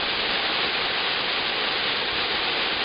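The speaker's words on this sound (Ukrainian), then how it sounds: "водоспад Шепіт в своїй красі" Shepit waterfall in the Carpathians, running low and partly filled, makes a steady, even rush of falling water that stays close and loud throughout with no other sounds.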